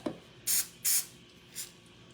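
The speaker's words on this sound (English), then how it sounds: "So I'm just going to lightly spray the exposed sides of the tortilla." Cooking spray misted onto the exposed sides of a tortilla for a Mexican pizza, heard as two close, fairly loud hissing bursts followed by a shorter, fainter third spritz.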